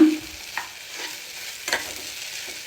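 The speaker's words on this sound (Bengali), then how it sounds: "এই হলো আমার একটা নুডলস রান্না করা।" Salted noodles stirred and fried in a pan, heard as a steady close sizzle with a few sharp scraping strokes of stirring and no voices.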